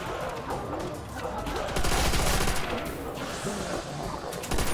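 Rapid bursts of automatic gunfire in Call of Duty Nazi Zombies on the Nacht der Untoten map, dense rattling volleys that swell and fade across a few seconds, with faint voices underneath.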